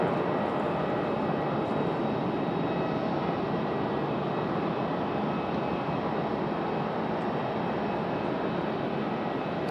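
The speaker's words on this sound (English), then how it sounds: "this is Southwest 2034 coming in from Baltimore, Maryland" A Southwest Boeing 737-700 arriving from Baltimore at Raleigh-Durham airport, with a loud, steady broadband jet roar that holds constant throughout and no other sound on top.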